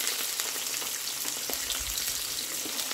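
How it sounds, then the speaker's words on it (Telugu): Peanuts frying in a pan give a steady, dense sizzle with a brief low rumble partway through and no voices. "అట్లా సౌండ్ వస్తే పల్లీలు ఫ్రై అయినాయి అని అర్థం"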